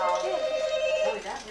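A musical toy ball gives off an electronic phone-like ringing tone, bright and close, sustained for over a second before fading.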